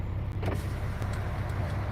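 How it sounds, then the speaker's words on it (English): Electric power window on a truck sliding down with a steady motor whir over the idling engine hum, a couple of faint clicks along the way, no talking. "let me lower my window real quick and then turn off my truck"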